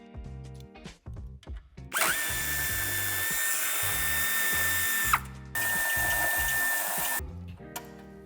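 A power tool whirs in two sustained bursts while undoing the bolts of a 2018–2021 Kia Sportage IV bumper crossmember in a workshop. The runs are loud and close, with brief ratcheting clicks and music in between.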